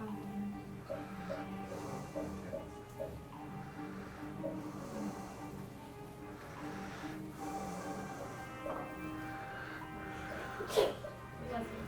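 A single sharp sneeze bursts out near the end, cutting through people talking over background music.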